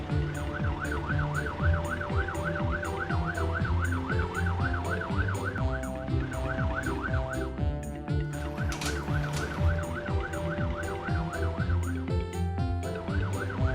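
Cartoon fire truck siren wailing continuously in a rising and falling pattern, loud and steady over engine-like drone and background music, with a short electronic sweep partway through.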